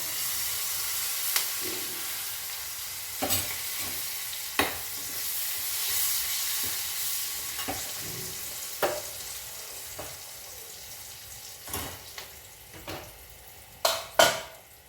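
Steady frying sizzle and hiss from curry leaves and tempering spices in hot oil, broken by occasional sharp pops and spatters that grow more frequent toward the end; no voices.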